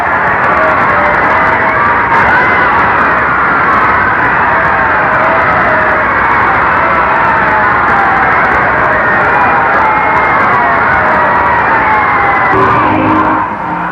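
A huge crowd of around two million roars and cheers nonstop at a royal wedding procession in London for Princess Elizabeth, a dense, loud, unbroken wall of yelling and whooping that swells throughout.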